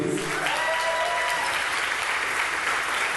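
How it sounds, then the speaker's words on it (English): An audience at a nerd rock orchestra concert claps in a dense, even burst that holds steady for a few seconds. "A round of applause for him, please."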